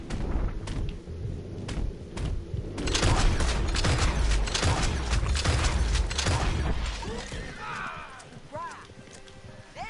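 Gunfire crackles in a Red Dead Redemption 2 shootout, with repeated sharp shots and bursts layered over horse hooves and commotion, loud and continuous for several seconds before thinning out.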